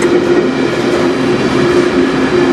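A CN freight train rolls past at night in Sarnia, Ontario, a loud, continuous rumble of railcars with steady rail noise and a faint tonal whine, close and unbroken throughout.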